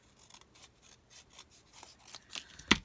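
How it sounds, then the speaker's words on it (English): Scissors snip through a strip of material to trim it narrower, a few soft, close cutting strokes ending in one sharp, louder snip. "Let me cut it down a little bit."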